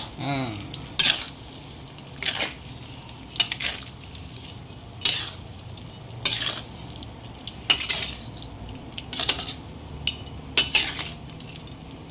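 A utensil stirs salted mouse-deer (kancil) meat cooking in a pan for a village-style soy sauce dish, with regular scraping clinks against the metal over a low, steady sizzle, close by and with no speech.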